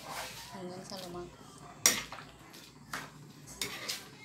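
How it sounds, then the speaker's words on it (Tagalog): Dinuguan of meat, offal, blood and coconut milk stirred in a cooking pot, with intermittent metal spoon scrapes and clinks against the pot under a person talking. "Halo na ng halo."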